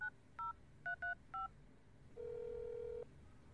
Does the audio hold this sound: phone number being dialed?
yes